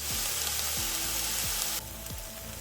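Onions fry in a hot pan with a steady, dense sizzle that drops a little partway through, under repeated low knocks from stirring; no talking.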